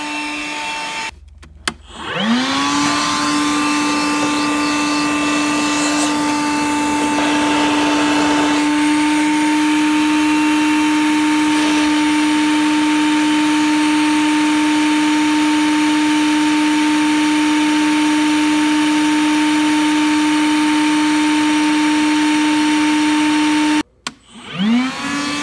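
A vacuum cleaner runs steadily and loudly for over twenty seconds, sucking a pull string through electrical conduit during wire pulling, with a sustained whine and a slight pitch shift partway through, then cuts off abruptly.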